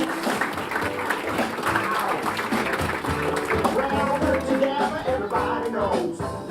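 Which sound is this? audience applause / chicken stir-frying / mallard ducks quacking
audience applause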